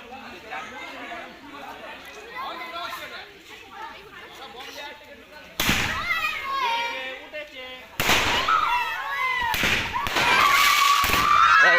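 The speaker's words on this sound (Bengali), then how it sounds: "বম ফাটছে।" Firecracker bombs burst outdoors among chattering children: two loud sharp blasts stand out from the talk, with crackling and excited voices continuing after each one.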